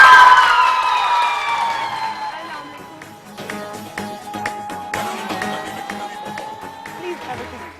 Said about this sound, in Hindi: तो आपकी बहुत सारी तालियों में